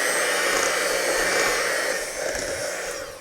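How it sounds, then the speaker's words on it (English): An electric mixer whirs steadily as it blends brownie crinkle cookie dough, a loud, continuous motor drone that holds for the whole stretch with only slight dips in level. "we're just gonna mix this until it's well combined"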